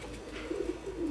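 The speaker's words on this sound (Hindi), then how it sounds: "लाल आंखों के कबूतर है" A red-eyed pigeon gives a soft, low, close coo in short pulses over a faint background hum.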